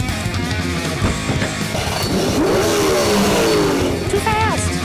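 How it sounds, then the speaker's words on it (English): Loud car engine revving up, a rising and falling roar with whining pitch sweeps over a steady drone, close and prominent, with brief voices under it. "It's a really loud car."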